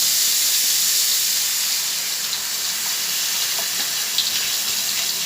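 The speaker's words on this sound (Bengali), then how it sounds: "এবার জল দিয়ে দেবো।" Water poured into a hot pot of pomfret fish curry with gathi hisses and sizzles steadily, a bright close rush of pouring and spattering that runs on for several seconds with no talking.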